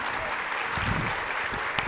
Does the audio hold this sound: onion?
no